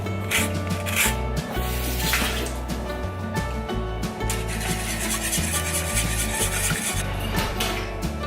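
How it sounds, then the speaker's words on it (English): Lemon zest being grated for a high-protein breakfast bake, a steady rasping rub of peel against a fine grater running continuously and close, with no talking. "And then we're gonna add the zest of 1 lemon."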